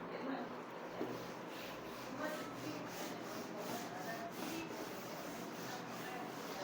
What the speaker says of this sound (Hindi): ये ट्रिपलेट्स रब कर दो ना